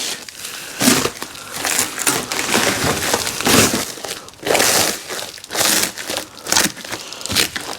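Bubble wrap packaging with stickers attached is crinkled and crushed by hand during a window install on a 1963 C10, loud irregular bursts of crackling and crunching at close range, with no talk.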